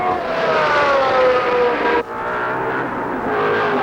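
Small race cars scream past on a New York State track at high speed, a loud, close engine whine dropping in pitch as one car passes, followed by a steadier roar, with no voices.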